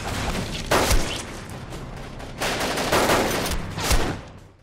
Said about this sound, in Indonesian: Terjadilah aksi pengejaran dan baku tembak yang cukup sengit.